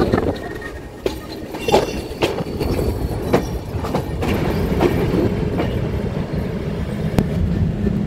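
Steady rumble of a moving train entering Khulna railway station in Bangladesh, with rhythmic wheel clatter and occasional sharp clanks, rolling along continuously without voices.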